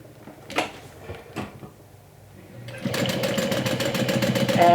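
A sewing machine stitches pleats on a swim tote bag, white thread in both bobbin and needle: a few soft handling knocks first, then a steady, loud, rapid mechanical whir for the last two seconds.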